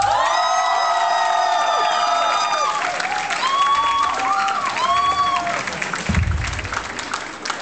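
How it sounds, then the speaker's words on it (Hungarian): Applause and cheering from a school class crowd at a student entrance event, with loud whoops and shouts over steady clapping that fades toward the end. "Én nem kértem volna tapsot"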